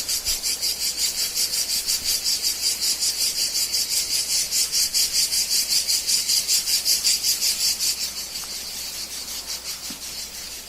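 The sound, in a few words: a single cicada singing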